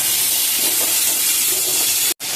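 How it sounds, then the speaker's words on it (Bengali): Crab pieces seasoned with salt and turmeric frying in hot oil in a home kitchen, a loud continuous sizzle and hiss that holds steady before cutting out abruptly near the end. "এটা ভাজা হচ্ছে আমার"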